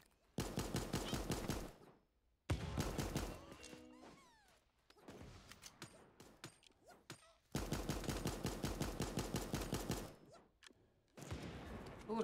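Rapid bursts of AK rifle fire in the video game Super Animal Royale, loud and close, coming in several long automatic volleys separated by short gaps with quieter game effects between.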